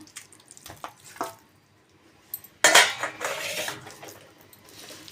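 Washed raw chicken is dropped into a perforated bowl: a few faint clinks of utensils, then a sudden loud, wet clatter of metal and dripping water that fades over a couple of seconds, with no talking.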